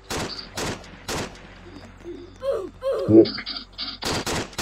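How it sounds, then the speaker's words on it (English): Gunfire in the Roblox game Armored Ship Battles cracks out in a few sharp bursts amid game noise, with someone talking over and between the shots. "Who the hell just shot me?"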